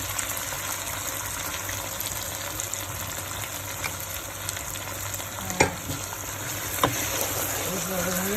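A blended paste fries in a cooking pot with a continuous dense sizzle. Two brief sharper clinks or scrapes stand out near the end, and there is no talking.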